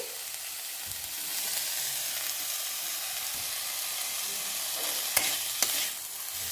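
Beto greens with eggplant sizzle in a pan under close, continuous stirring, and two sharp spatula taps ring out near the end.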